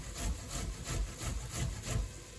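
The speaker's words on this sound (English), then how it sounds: "This is my cheese grater." Fresh ginger is rubbed on a cheese grater in a home kitchen. About five rhythmic, close scraping strokes sound in quick succession, each a soft rasping swish with no talking.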